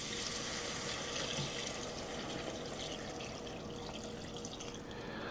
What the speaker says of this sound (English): I'm gonna try to add about 2 cups of water.